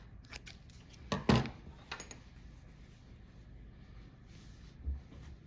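Scissors snip crochet yarn at close range in a quick cluster of two or three crisp cuts, followed by faint handling noise in a quiet room.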